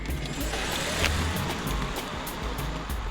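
A 2018 Toyota Camry sedan accelerates on the road, a steady broadband rush of engine and road noise heard from close by without talk.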